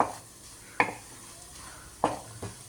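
Soft crackling sizzle of spices tempering in hot oil, with a couple of sharp metallic clinks from a utensil against the pan.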